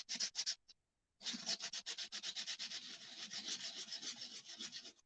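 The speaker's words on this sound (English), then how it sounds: "I'm just going to rub it on my 220 grit sandpaper" Laser-cut birch wood is rubbed on 220 grit sandpaper in quick back-and-forth scratchy strokes, close and clear, a few strokes followed by a short pause and then a longer steady run.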